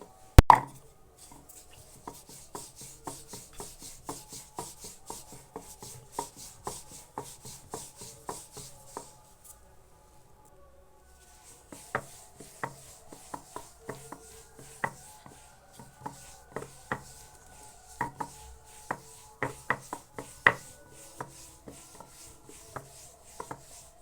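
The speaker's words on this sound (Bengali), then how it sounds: "এবার আমি ময়দার সাহায্যে বেলে নেব" A rolling pin works flour-dusted dough on a wooden rolling board, giving a steady series of soft knocks and rubbing rolls, close and quiet, with a brief pause midway before the rhythmic rolling resumes.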